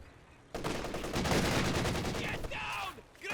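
DShK heavy machine gun fire mixed with a ZiS artillery barrage in a Company of Heroes 2 match, a loud, continuous rapid burst of gunfire with rattling impacts, a caster's voice faintly under the din near the end.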